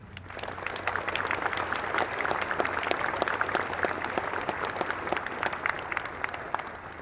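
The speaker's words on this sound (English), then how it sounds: "Would you give them a round of applause?" Outdoor crowd at an Anzac Day parade service in Devonport, New Zealand, gives a sustained round of applause, steady dense clapping from many people at a moderate distance.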